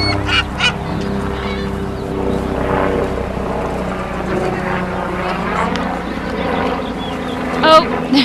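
Seagulls at Sugarhouse Park call loudly while being fed, with a dense overlapping chorus of honking, squawking cries over steady outdoor noise, and people talk nearby.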